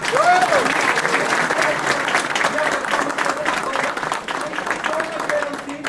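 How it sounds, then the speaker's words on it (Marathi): Loud applause from an audience at a workplace team performance event, steady dense clapping filling the whole stretch, with some voices and cheering mixed in. "जोरदार टाळ्या"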